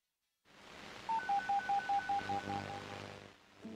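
Touch-tone telephone dialing of 911 heard as a quick run of evenly spaced, clear beeps following a soft line hum, fairly quiet with no talking.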